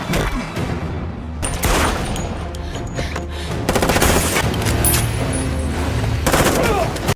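Rapid gunfire rattles through a movie shootout, dense overlapping bursts of automatic and single shots that are loud and close, with a narrator's voice running beneath the barrage.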